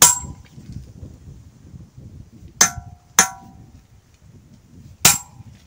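A hammer strikes a steel chisel cutting into hard stone, giving a few sharp, ringing clangs spaced a second or two apart over a low background murmur.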